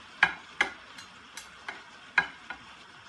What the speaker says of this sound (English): I'm going to move all the pasta over on the side